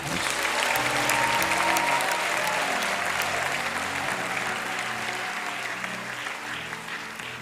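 A church congregation breaking into sustained applause, a dense wash of clapping hands that holds steady and slowly eases off.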